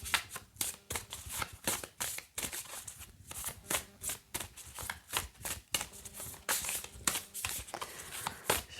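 Tarot cards being shuffled by hand, a steady run of quick papery riffles and soft slaps repeating close up with no talking.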